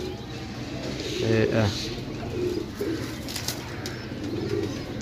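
Pigeons coo in close, soft rhythmic bursts, with people talking nearby over a steady background murmur.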